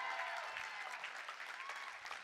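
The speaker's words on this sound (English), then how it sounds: "Can I get a round of applause for Phil and Jennifer?" A keynote audience applauds continuously, a dense wash of many hands clapping at a distance, fairly quiet and even throughout with no speech on top.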